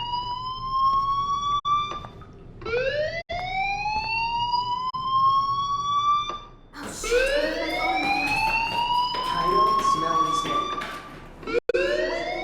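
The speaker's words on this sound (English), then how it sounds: "Hey, do you hear that fire alarm?" A fire alarm wails in the video game Life Is Strange: Chrysalis, its rising electronic siren sweeping upward again and again, loud and steady, with a louder burst of sweeps midway.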